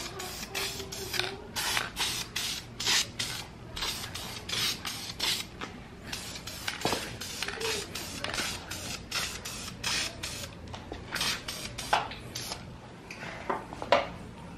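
Spray can applying a second coat of wrinkle paint to a valve cover, a series of close hissing spray bursts in an irregular rhythm with short gaps between them.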